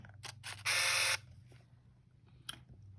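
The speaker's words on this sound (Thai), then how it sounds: "นี่กดชัตเตอร์ลงครึ่งก่อน เล็งก่อนนะคะ ให้กล้องจับโฟกัสแล้วก็กดถ่าย" A Ricoh My Port Super Zoom compact film camera takes a photo: small mechanical clicks, then a loud half-second whirring burst of the motor, a pause, and one last sharp click, close up with no talking.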